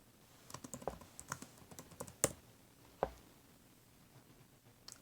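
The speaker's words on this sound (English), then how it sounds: "And then you choose your font, and then you just type what you're needing to type." Typing on a computer keyboard: a quick, irregular run of light key clicks with a couple of sharper taps, fairly close and alone, trailing off into quiet near the end.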